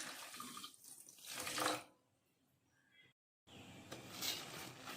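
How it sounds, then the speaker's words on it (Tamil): Half a cup of water splashes and runs steadily into a pan, pausing briefly before pouring resumes, close and fairly loud. "1/2 கப் தண்ணி ஆட் பண்ணிக்கிறேன்."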